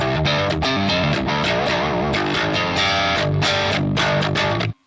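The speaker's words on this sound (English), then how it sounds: "Then we've got a split rhythm sound." Distorted electric guitar with a split rhythm tone chugs out chopped rhythm chords, loud and steady, then cuts off abruptly at the end.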